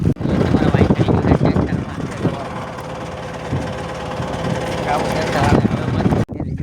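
Small tractor engine running in a field of pigeon pea and maize, a rough, knocking chug that stays steady and close while a person talks over it.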